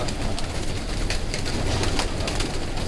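Pigeons at a pigeon-keeping loft coo softly and repeatedly at close range, with a low, rumbling rhythm over a faint outdoor background.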